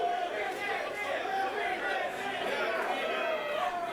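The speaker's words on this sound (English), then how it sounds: "This crowd is abuzz." Crowd at a wrestling event, a constant murmuring buzz of many voices filling the space, with a commentator talking over it.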